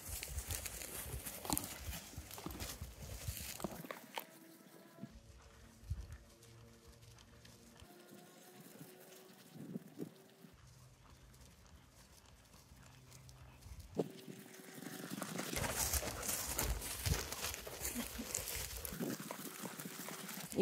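A horse moves in a small circle (volte) in a riding arena, its hoofbeats a faint, steady clip-clop at a distance over quiet room tone, growing somewhat louder near the end.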